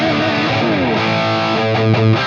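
Electric guitar played through a Fractal AX8 on the Friedman BE preset with a Recto 57 cab, using a PRS Custom 24 with a JB bridge pickup, gives a loud, distorted rock tone of sustained chords and a few notes.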